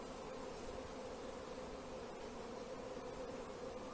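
Honeybees buzz steadily around beehives outdoors, a dense, continuous hum of many insects close by that holds evenly throughout with no voices.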